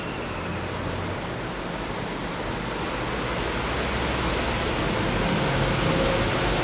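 The Bhogavati river, swollen after the first monsoon rain, rushes past in a steady, loud, unbroken wash of flowing water that fills the whole span with no voices.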